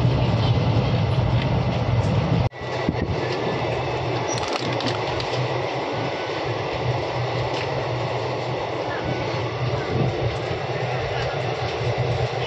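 A train rumbles steadily along the rails with a constant low roar and faint clatter, briefly interrupted by a sharp thud, and a voice speaks over it.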